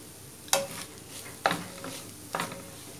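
A squid and coconut stir-fry being stirred in a pan, with three distinct scraping strokes about a second apart over a quiet, steady sizzle.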